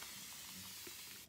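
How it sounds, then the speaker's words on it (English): A short, close hiss of a spray bottle misting plain water onto a paintbrush, one steady burst that stops abruptly at the end. "spray your brush with some water"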